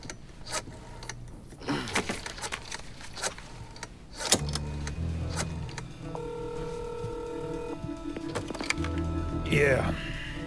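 A phone number is keyed in during a Mafia 3 video game cutscene, with a few short tones in a row over game ambience and car-like background noise.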